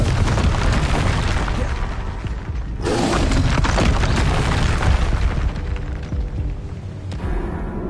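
A Confringo fire spell exploding in Hogwarts Legacy: loud, dense booming blasts that fill the whole stretch, with a fresh burst near the three-second mark and rumbling, crackling tails afterward.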